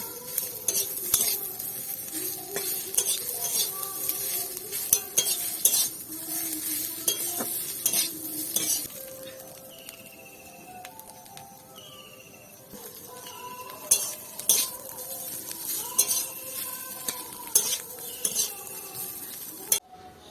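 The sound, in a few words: stirring mustard paste into potato and pointed gourd curry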